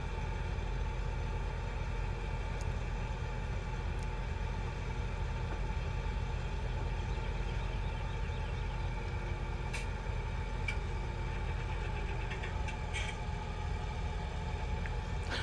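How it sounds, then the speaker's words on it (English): A vehicle engine running and vibrating, a continuous low steady drone at close range with no talking and only a few faint high pings over it. "at first I thought it was a lovely engine noise"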